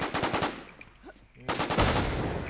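Automatic gunfire in DayZ: rapid bursts of close shots that stop briefly, then come back as loud, dense firing, with faint speech under them.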